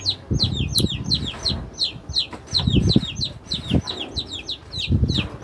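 Chickens cluck and chirp close by in repeated short bursts, several birds calling over one another against a low background rumble.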